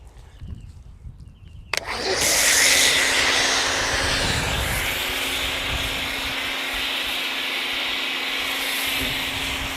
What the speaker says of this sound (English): let's try the Adams foam cannon first